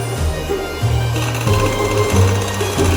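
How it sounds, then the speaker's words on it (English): An electric mixer whisks fruitcake batter, a loud, steady motor whir that changes pitch in repeated bursts as the beaters move through the bowl, with no talk. "we whisk it again"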